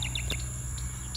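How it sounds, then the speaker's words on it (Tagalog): Migratory birds calling along the Socobia River trail in Concepcion, with Mount Arayat in view: a few short, thin chirps come and go over a steady insect drone and low outdoor rumble, with no talk. "yun yung mga ibon. Dahil yung mga migratory bird dito."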